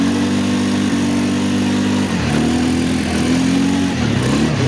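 A quad bike's engine with a variator runs loud and close, holding a steady mid-pitched drone that shifts in pitch a few times as the revs change.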